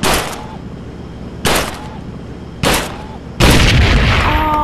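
Gunfire in the VR shooting game Gun Club, with shots hitting a target and a barrel: four sharp, loud blasts about a second and a half apart, each with a short ringing tail, the last followed by a longer rumble.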